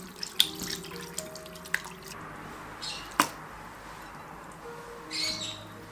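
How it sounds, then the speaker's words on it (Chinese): Chicken pieces being rinsed in a bowl under a running tap: a soft, steady stream of water with a few sharp splashes and clinks, fairly quiet and close. "鸡块装入碗中，多清洗几遍。"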